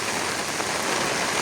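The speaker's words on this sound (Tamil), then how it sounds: "இப்போ மழை பெஞ்சோடு தான் இருக்குங்க." Steady rain falls on a hard surface, a continuous close hiss of drops without pause.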